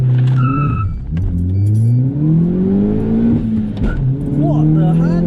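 A Mitsubishi Colt engine revs hard through rising pitch sweeps as it accelerates and shifts, loud and close from inside the car, with voices talking over it.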